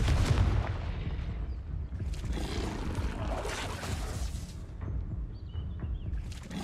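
Spell combat in Hogwarts Legacy, with a Confringo blasting spell set off amid the duel: a dense, continuous roar of booming magic impacts and bursts, loud and close throughout, with no gaps or quiet spells.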